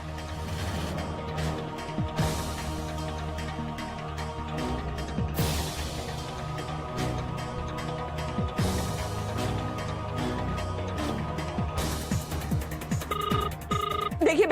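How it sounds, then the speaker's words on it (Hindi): A telephone rings in repeated bursts, fairly quiet, with short pauses between rings and a faint tone near the end. "देखिए बेल जा रही है ना।"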